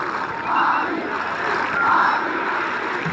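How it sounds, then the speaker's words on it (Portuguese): São Paulo supporters in a 1999 Brazilian league stadium match against Atlético Mineiro chant for Raí, a loud rhythmic crowd chant swelling in two waves and filling the stands. "Torcida do São Paulo pede Raí."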